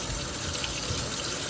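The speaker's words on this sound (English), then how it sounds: "rinse these off real good." Tap water running steadily while food is rinsed in a home kitchen, a constant full rushing gush with no pauses, close by and with no talk.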